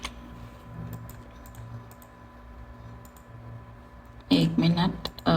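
Computer keyboard typing while building a WordPress tool website, soft scattered key taps under a steady hum, then a burst of clicks alongside someone speaking near the end.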